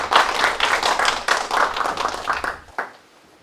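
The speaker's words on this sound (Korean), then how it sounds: "큰 박수로 맞아주시기 바랍니다" Applause from a forum audience welcoming a speaker, a few dozen hands clapping in an uneven, fairly close burst that swells, then thins and stops abruptly near the end, leaving near silence with a last stray clap.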